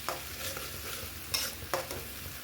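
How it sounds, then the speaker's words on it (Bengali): Bay leaves, cinnamon, nigella seeds and cumin sizzle quietly in hot oil, with a soft steady fizz broken by a few short stirring scrapes. "ওই তেলের মধ্যে এবার আমি দুটো তেজপাতা, দালচিনি, কালো জিরে, সাই জিরে দিয়ে ফোড়নে দিয়ে"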